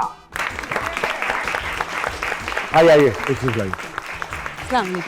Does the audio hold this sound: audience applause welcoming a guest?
yes